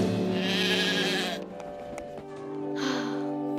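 A cartoon sheep lets out a loud, wavering bleat, pauses briefly, then bleats again more softly, heard clearly up front.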